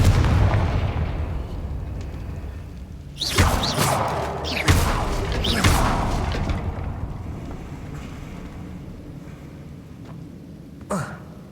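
A Confringo spell in Hogwarts Legacy hits with a sudden explosive blast and crackling burst, then a second boom shortly after, followed by a fading rumble and a sharp smaller impact near the end, set against game ambience.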